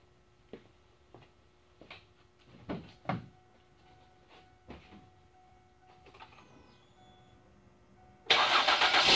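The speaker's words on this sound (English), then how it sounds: "Got our battery cables hooked up, so we're going to crank her over." The 3.0L engine of a 2006 Ford Freestyle, with battery cables hooked up after a starter replacement, cranks in several short bursts with clunks and a faint whine, then fires and runs loudly for the last second.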